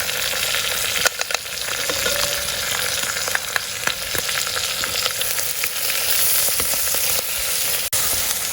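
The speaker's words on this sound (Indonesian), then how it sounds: "Ini kita tumis sampai harum, sampai agak kering ya, biar nggak bau langur." Seasonings with salt and stock powder stir-fry in a pan for Klaten-style chicken soup, a dense, loud, continuous sizzle with scattered clicks of a utensil against the pan, heard close up and alone.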